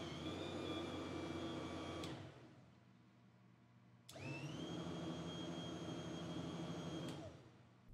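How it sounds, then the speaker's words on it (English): A Sleipner bow or stern boat thruster run from its joystick with the thermo switch bypassed: a steady electric motor whine with tonal hum runs about two seconds, stops, then starts again for three seconds before cutting off. "We will go to our joystick now and try to run the thruster from there."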